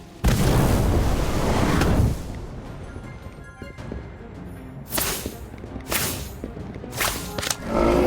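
An Incendio fire spell in the Harry Potter Magic Awakened video game bursts out with a loud whooshing roar lasting about two seconds, followed by fainter crackles and several short sharp hits.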